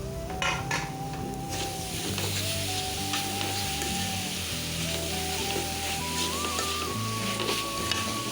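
Grated coconut sizzles and fries steadily in a hot pan, a dense continuous crackle with scraping stirring, close and loud throughout, with faint background tones.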